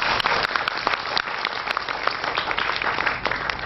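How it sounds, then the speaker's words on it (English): An audience claps steadily, a dense, continuous round of applause that holds at the same level throughout. "Can you give you guys a big clap?"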